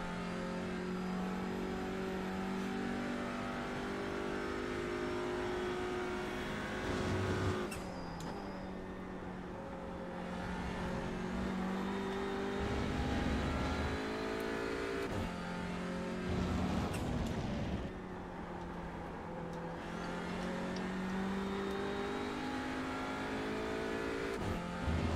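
TCR touring race car lapping Donington Park, heard from onboard: a loud, steady engine roar that climbs through the revs and drops sharply at repeated gear changes and braking zones, with no talk.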